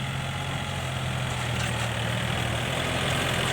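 A Yanmar EF393T farm tractor engine running steadily nearby while working a rice paddy, a continuous low droning rumble with no voices.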